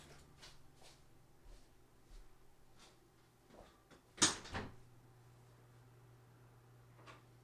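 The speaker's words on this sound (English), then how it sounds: "I'm gonna open the door." A room door is opened in a quiet home, a sharp latch click and short thud partway through, standing out over a steady low hum and scattered faint ticks, with no talking.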